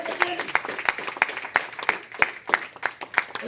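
A church congregation claps together in a steady, rhythmic beat during a worship service, the sharp claps falling in even time over a low murmur of voices.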